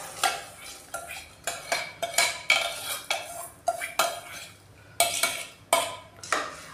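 Washed rice added to a pot of boiling water with dal and mixed with a metal spoon, producing a run of close, rhythmic scraping and clanking strokes against the pot.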